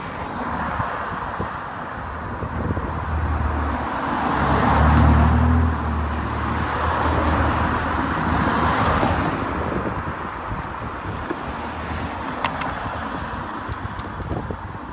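Several cars drive past on a road in Clacton on Sea, a steady broadband traffic rumble that swells around the middle as one passes close, with wind buffeting the microphone throughout.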